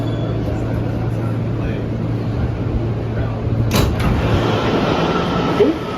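Queens-bound NYC subway E train, an R160 car, running underground with a loud steady rumble and motor hum inside the car, a brief sharp clank partway through, and faint chatter beneath the noise.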